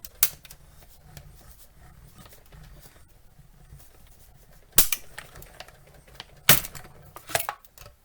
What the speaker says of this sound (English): we'll just run that through our die cutting machine.